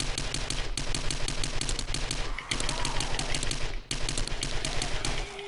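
Rapid sustained submachine-gun fire in the survival game 7 Days to Die, loud and close, with continuous rattling bursts broken by brief pauses.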